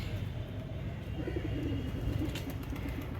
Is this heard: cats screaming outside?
no